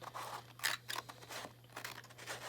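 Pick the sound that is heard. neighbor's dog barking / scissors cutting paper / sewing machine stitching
scissors cutting paper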